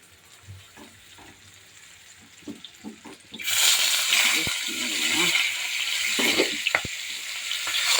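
Rohu fish dropped into hot oil in a home kitchen breaks into a loud, sudden sizzle partway through, after quiet clinks and handling, and the frying hiss continues steadily with some pops.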